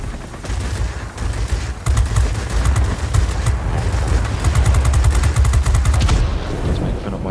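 Aircraft machine guns from an A6M5 fighter in World of Warplanes rattle in repeated rapid bursts over a steady roar of engine and wind, the fire loud and close.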